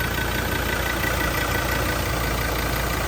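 The engine of a trail-ready 4x4 pickup truck idles steadily, giving a constant, dense mechanical hum and rumble with no change in pace over the short stretch, close by and with no talking.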